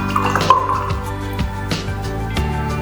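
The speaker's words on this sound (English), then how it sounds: "I'm cleaning my brush off." A watercolor paintbrush is swished and tapped in a jar of rinse water, giving a string of close, fairly loud wet drips and sloshing bursts at irregular intervals.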